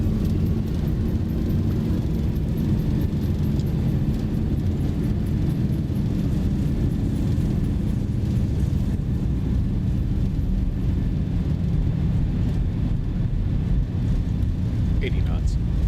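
Thrust reversers of a LOT Boeing 737-800 on landing roll, heard from inside the cabin as a loud, steady low rumbling roar that holds throughout without letting up.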